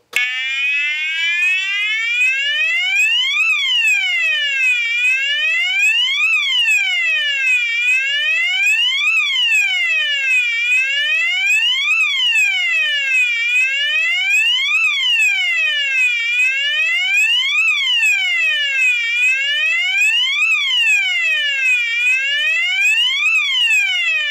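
A loud Chinese electronic fire alarm horn on a 24-volt DC circuit, tested, sweeps up and down in a continuous whooping pattern, piercing and unbroken for the full length with no voices.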